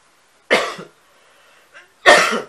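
Two loud, sharp coughs about a second and a half apart, close to the listener, with a faint throat noise between them during a quiet pause in an Islamic talk.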